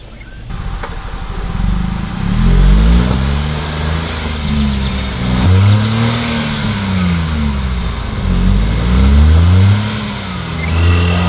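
A small car's engine revs hard and repeatedly as it struggles through mud at a cold campsite, the pitch rising and falling in strained surges, loud and close throughout.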